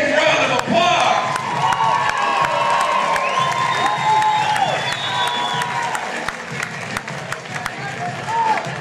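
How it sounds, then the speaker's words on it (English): A casino fight-night crowd applauds and cheers for two female boxers after a round, steady clapping mixed with shouts and whoops while an announcer's amplified voice talks over it. "Let's give these ladies a big round of applause."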